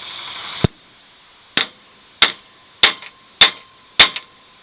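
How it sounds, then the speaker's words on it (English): A hammer drives an elevator bolt into a horse shed kit: five sharp metallic strikes, close and evenly spaced after an initial ringing hit, each decaying quickly in a quiet space. "we have to take a hammer and drive it in that next 1/4 inch"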